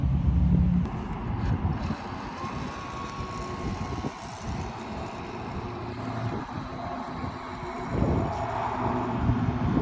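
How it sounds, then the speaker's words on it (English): A Heng Long RC work boat with a brushless motor and 60 amp ESC runs on the water, its motor a continuous buzzing whine that dips briefly and surges again, heard without speech. "it has a brushless motor, brushless 60 amp ESC, and a standard servo, completely modified."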